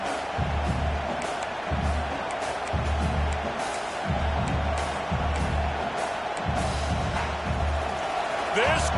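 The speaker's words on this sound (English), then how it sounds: "This crowd, full throat, splitting the eardrums and letting them know it's going to be a long day." Stadium crowd roaring in a college football video game, LSU against Texas A&M, a continuous loud wash of cheering with a repeating low rhythmic thumping pulsing beneath it.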